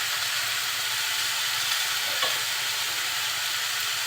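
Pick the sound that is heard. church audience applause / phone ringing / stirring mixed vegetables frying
stirring mixed vegetables frying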